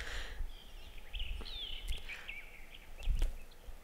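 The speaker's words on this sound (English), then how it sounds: "Shout out to the birds who have been aggressively cyberbullying me all morning." Birds chirp outdoors in a morning setting, with several short, bright calls and trills scattered across a few seconds, moderately close, over a soft background rumble.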